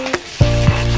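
Spices, peanuts, curry leaves and green chillies tempering in hot oil for Karnataka poha; a short clack is followed by a loud, bright sizzle that keeps crackling up close.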